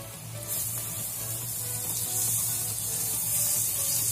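Butter melting in a preheated pan while making shahi paneer gives a steady, soft sizzle and hiss that runs alone for about four seconds, swelling slightly partway through.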